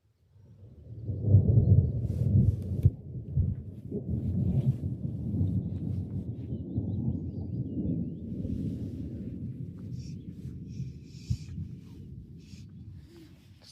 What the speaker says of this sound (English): I think thunder and lightning is probably a good signal to go home.